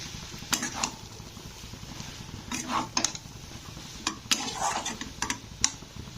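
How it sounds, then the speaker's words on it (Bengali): A spice mix with turmeric and garam masala stir-fried for a vegetable cutlet filling, with low sizzling under sharp metallic clinks and scrapes of a spoon against the pan, close and irregular. "মশলাটাকে আরও দু থেকে তিন মিনিট এইভাবে কষে নিতে হবে"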